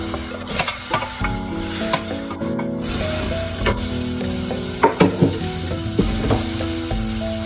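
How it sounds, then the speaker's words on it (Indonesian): Squid curry simmering in a pot as water, carrots and chilies go in: a steady close sizzle and bubbling hiss with scattered stirring clatters and a few sharper knocks from a utensil against the pot. "Saya tambahkan air kembali dan langsung masukkan ini si wortel sama cabenya"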